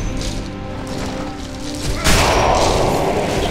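Gunfire from a zealot enemy in the Torchlight video game: a muffled boom and burst of blasts, with a sharp, louder crash of impact about two seconds in, set against game ambience.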